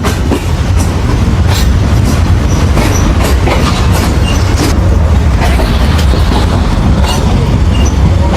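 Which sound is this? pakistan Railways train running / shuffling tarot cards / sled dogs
pakistan Railways train running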